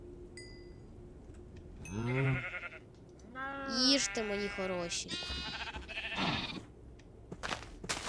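Sheep bleating in the Minecraft video game as farm animals are fed: several wavering, nasal bleats in quick succession, mixed with other animal calls, while a person talks over them.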